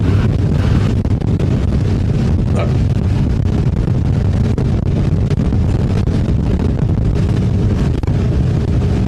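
Strong wind buffets the microphone at an A Class boat race, a loud, continuous low rumble and roar with gusty fluctuations and no talk.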